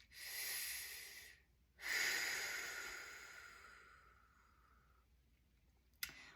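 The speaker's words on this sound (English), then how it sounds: "put your hand on your chest and one hand on your belly and just take a deep breath in" Two slow, deep inhales during a 360 breathing exercise, close and breathy, alone with no talk, followed by a brief click near the end.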